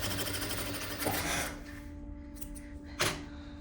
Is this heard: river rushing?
no